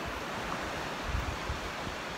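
Sea waves surging in quickly over the rocky Pembrokeshire coast, a dense, constant wash of surf with low rumbling swells, close by, mixed with some wind noise on the microphone and no talking.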